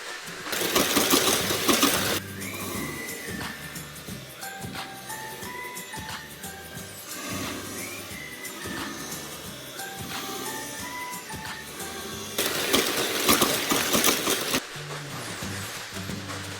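A Disney Cars motorized toy race track set around Radiator Springs, Mattel, with Flash McQueen cars, whirring steadily with buzzing motor hum and clicking as toy cars circle, growing louder and busier in bursts at the start and near the end.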